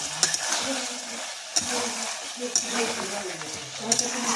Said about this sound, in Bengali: আদা, জিরা, গোলকি, কাঁচা লঙ্কা পেস্টটা দিয়ে দিয়ে এবারে মশলাটা দেওয়া হয়ে গেছে